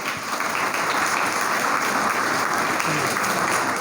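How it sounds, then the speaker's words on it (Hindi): Loud, dense audience applause at an environmental talk in Kathiya, Bemetara, many people clapping hard together, close and continuous from start to end. "एक बार दोनों हाथ ऊपर करके ज़ोरदार तालियां भैया के लिए"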